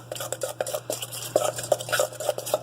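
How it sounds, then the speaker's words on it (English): A large tablespoon quickly works through potato pancake batter in a bowl, making a steady series of close, wet scraping and clinking stirs with no talking. "So just take a large tablespoon and just quickly work everything together."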